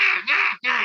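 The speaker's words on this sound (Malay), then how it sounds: "Mungkin ada burung gagak lah." Two loud, harsh crow caws close by, the first drawn out and the second starting after a brief gap.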